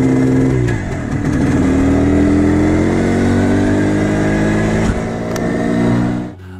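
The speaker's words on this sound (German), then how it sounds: "Der Motor muss einfach jetzt systematisch gefahren werden" An MZ ES 150 two-stroke motorcycle engine, freshly overhauled, runs loudly and steadily up close, its pitch rising and falling slightly before cutting off near the end.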